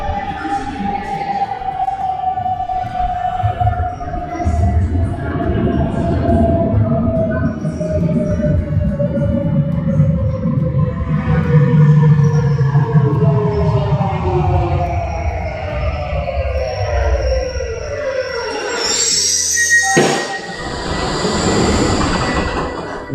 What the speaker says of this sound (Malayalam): നമുക്ക് പോകാനുള്ള ട്രെയിൻ വരുന്നുണ്ട്